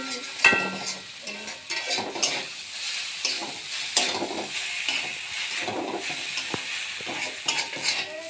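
Chow mein being stir-fried with sauce in a pan: a steady soft sizzle with scraping stirs and occasional utensil clinks, close and moderately quiet.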